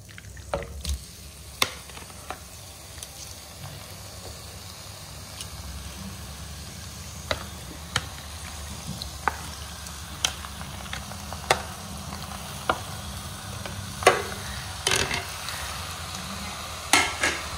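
Pork chilli being mixed in a pan with fried green chilli, garlic and ginger: a low sizzle runs underneath while a spoon knocks and scrapes the pan at irregular intervals, sharp clicks standing out, with no talking.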